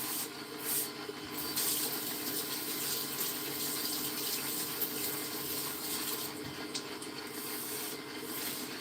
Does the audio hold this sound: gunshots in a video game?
no